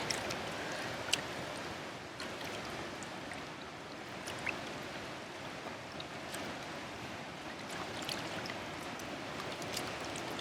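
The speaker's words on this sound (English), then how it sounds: "now I got the sloshing bowl here" Water sloshes in a bowl during a garden stroll, a continuous rushing, splashing wash with small irregular splashes, fairly close and steady throughout.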